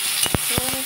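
Black cumin seeds are tempered in hot oil for a rohu fish curry with brinjal. A short stretch of soft sizzling is broken by a few quick scraping strokes of a spoon stirring the pan, with no voices.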